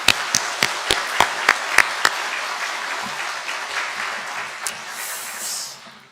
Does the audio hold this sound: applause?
yes